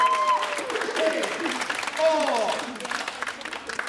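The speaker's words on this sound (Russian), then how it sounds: "Вы аплодируете?" A small group of people claps at a home Italian party, scattered applause running on for a few seconds beneath voices.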